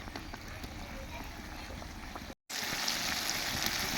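Spice masala for a beef tripe curry fries in a pan, a steady, close, bubbling sizzle that cuts out briefly midway, then resumes a little brighter.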